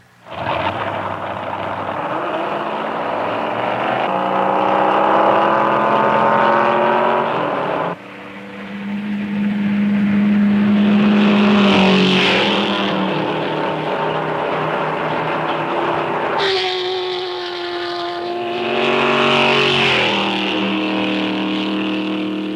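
Race car engines on a track roar and whine continuously, pitch climbing and dropping as cars rev and pass, with a brief dip in the middle before surging again.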